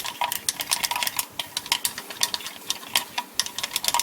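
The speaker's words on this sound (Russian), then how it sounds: "Перед использованием краску нужно перемешать." ORLY SL leather edge paint in gloss being stirred in its container, producing quick, irregular clicks and taps of the tool against the sides, close and fairly loud, with no talking.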